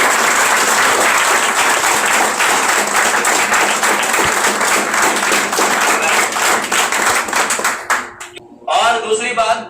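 An audience gives loud, sustained applause and clapping for a government-school student who scored top marks. The applause fades near the end and a voice starts speaking.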